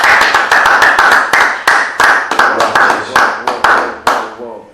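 An audience claps in acclaim during a French-language church sermon, a loud burst of rhythmic hand claps that gradually thins out and fades toward the end.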